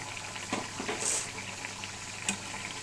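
Bele fish curry with cumin powder simmers gently in a pan, a soft, continuous bubbling hiss with a few brief clicks and pops.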